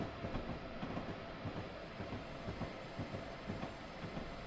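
Rolling train in Train Simulator 2020 on the New York to New Haven line near Norwalk, with a steady low rumble and faint rhythmic clicking of wheels over rail joints, heard alone with no talk.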